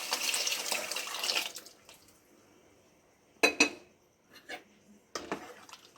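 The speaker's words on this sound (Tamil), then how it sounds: "பருப்பு இப்போ கடைஞ்சி எடுத்து வந்துட்டோம். இப்போ நம்ம இதை சாம்பாரில் சேர்த்துக்கணும்" Mashed cooked lentils being scraped from a vessel into a pot of ash gourd sambar, a wet splashing pour at first, then quiet with a few sharp metal clinks of a spoon against the pot.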